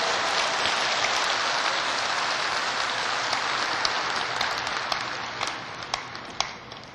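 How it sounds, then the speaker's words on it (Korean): A large audience at a religious gathering claps loudly, with dense, even applause that holds steady and then thins out, leaving a few scattered claps at the end. "그렇다면 박수 한번 크게 하나님 좋아할 수 해보지."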